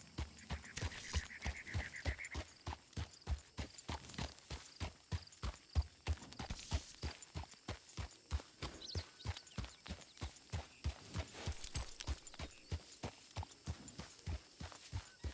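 Rhythmic hoofbeats of a horse in a video game clip-clop steadily for about fifteen seconds, close and even-paced with slight shifts in rhythm, with a brief faint tone early on and no talking.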